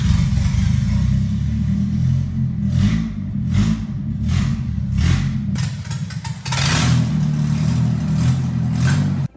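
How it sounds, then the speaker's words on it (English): A Toyota pickup truck engine with an open header and no exhaust idles with a loud, rough, unmuffled rumble, revving sharply several times in quick succession before settling. "Here's how the truck sounded before with just the open header."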